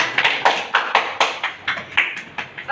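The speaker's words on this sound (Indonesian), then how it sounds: "Beri tepuk tangan untuk kalian semua." A short burst of applause from a small group in a classroom, uneven claps rising and falling in quick succession.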